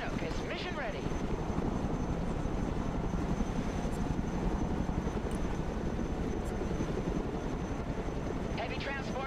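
Twin-rotor Chinook transport helicopter flying in the video game Broken Arrow: a loud, steady, close rotor roar with fast, even blade chop throughout, plus a few short tonal electronic chirps at the start and end.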